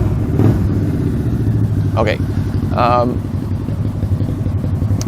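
A neighbor's motorcycle passes outside, its engine a low, moderately distant drone under someone speaking briefly indoors.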